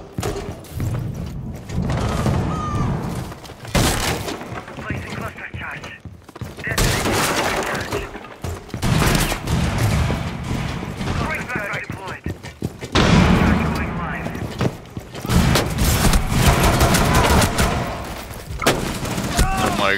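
Gunfire in Rainbow Six Siege on the Outback map rattles in repeated bursts with breaking debris and mechanical clatter, loud and close, while players talk over the action.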